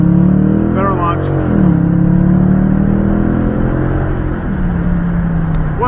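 A Dodge Challenger R/T with a 5.7-liter V8 HEMI launches and accelerates hard, its deep engine note rising through the revs, loud and close from inside the car, with a voice speaking over it.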